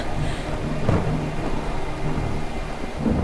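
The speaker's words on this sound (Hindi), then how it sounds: "ये इतना जल्दी कैसे आ गया?" Heavy rain pours through a thunderstorm while low thunder rumbles beneath it, a loud, continuous wash of sound without speech.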